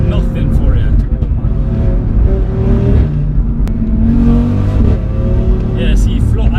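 A tuned 500 bhp Audi RS3 engine revs hard after a downshift into second gear, a loud droning roar rising and falling in pitch from inside the car, with voices talking over it.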